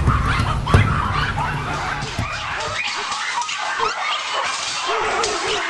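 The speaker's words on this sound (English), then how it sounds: "I am a puppy mill dog." Puppy mill dogs whimpering, yipping and barking in a loud, busy mix, with voices underneath and a continuous cluttered backdrop.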